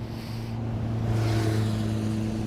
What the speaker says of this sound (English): All right, that's just a full-on motorcycle.